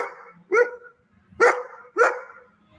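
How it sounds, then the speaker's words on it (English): Dog barking picked up by a home security light bulb camera, three sharp barks spaced under a second apart, sounding somewhat distant and otherwise alone. "That sounds like a dog that's on that camera."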